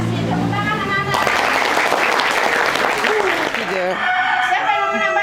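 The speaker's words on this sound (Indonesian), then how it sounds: "Terima kasih, tepuk tangan anak-anak." Schoolchildren in a high school classroom clap in a burst of applause lasting a few seconds, mixed with their voices and chatter around it.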